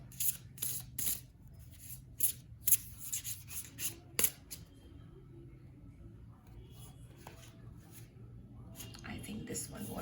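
Tarot cards are shuffled by hand, several quick, sharp riffles and slaps close up at first, then quieter handling with a soft voice murmuring faintly in the background.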